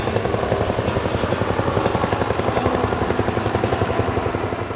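A Korea Forest Service firefighting helicopter flies close and loud, its rotor producing a steady rapid chop with a continuous engine roar.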